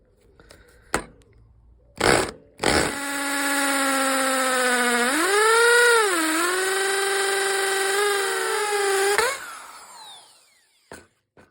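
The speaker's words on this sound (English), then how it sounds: "Right, 4mm drill." An electric drill with a 4mm bit whines steadily for several seconds, its pitch dipping and rising as it bites through material, framed by a few clicks before and after.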